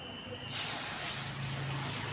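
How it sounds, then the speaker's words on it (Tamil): A single sustained hiss of a spray bottle misting Epsom salt water onto rose plants, starting abruptly and holding steady for over a second, close to the microphone. "எப்சம் கலந்த தண்ணியை வந்து அதுக்கு ஸ்ப்ரே பண்ணுறோம்"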